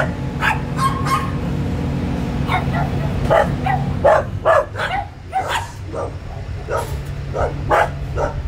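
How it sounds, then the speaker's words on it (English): Several dogs bark and yip loudly in quick bursts close by, with a low hum underneath and someone talking over parts of it. "I don't know why these dogs are so fucking loud right now"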